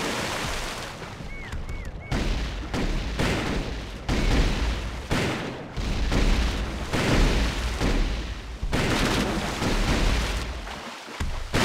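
Shotgun fire in the video game Tribes 2 cracks out as a long series of sharp, loud blasts in quick, irregular succession, each followed by a brief booming tail.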